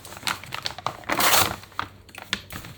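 An Amazon package holding graphic novels being cut open, with close crinkling and tearing of packaging and a louder rip midway, no talk.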